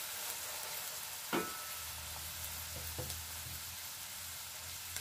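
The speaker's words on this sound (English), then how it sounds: "I'm just going to let it go for a few minutes until the onions and the green pepper has cooked" Onions and green pepper with chilies frying in a pan for spaghetti, a steady close sizzle with a low hum beneath and one sharp clack of a utensil against the pan.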